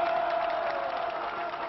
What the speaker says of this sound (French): elle vient à la tribune sous l'ovation générale